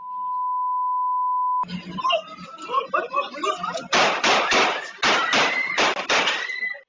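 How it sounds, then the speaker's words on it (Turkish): A steady beep tone gives way to people talking, then a rapid series of loud sharp gunshot cracks, several in quick succession, during a shootout outside a restaurant in Atakum, Samsun. "Bir anda silahlar patladı."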